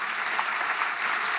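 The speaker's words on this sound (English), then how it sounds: "Please join me in a warm round of applause for Ta-Nehisi Coates" An audience gives brief, steady applause for Ta-Nehisi Coates at the close of an Institute of Politics conversation on reparations, dense clapping holding at an even level throughout.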